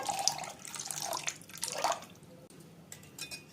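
Water poured into curd (plain yogurt) in a kitchen, a faint trickling splash with a few drip-like spatters, alone with no talking.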